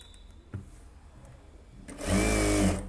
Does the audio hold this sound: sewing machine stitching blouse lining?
yes